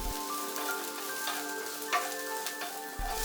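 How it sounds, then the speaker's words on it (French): Garlic and onion sautéing in a sauté pan for beef with peppers, a steady close sizzle and crackle with faint stirring scrapes throughout. "dans la même sauteuse, faire revenir 20 secondes l'ail et l'oignon"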